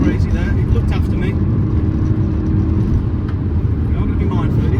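A BMW E92 M3 carries its engine note through a run of bends on a slippery road, a continuous low rumble heard from inside the car with someone speaking over it.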